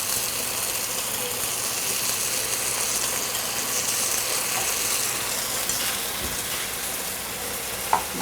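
Ginger garlic paste fries in a pan for a chicken biryani, giving a continuous bright sizzle with occasional scraping stirs and a faint clink near the end.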